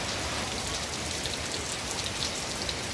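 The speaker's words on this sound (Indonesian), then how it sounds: "Suara hujan seperti musik klasik yang sangat enak" Rain falls steadily at night, a soft, even hiss of drops spread across the whole moment, faint and unbroken with no voices or thunder.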